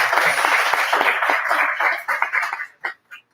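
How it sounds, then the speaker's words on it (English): Audience applause greets a late-arriving chair at a roundtable event against racism and islamophobia in London, a burst of close clapping that thins into a few scattered claps and fades out after about three seconds. "Can we have a round of applause for Rim?"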